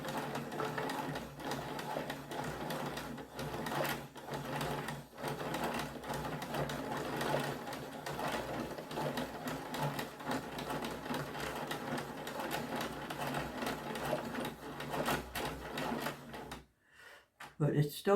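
A TEMU wool winder winds yarn with a continuous close mechanical whirring and rattling that runs steadily for most of the stretch before briefly stopping.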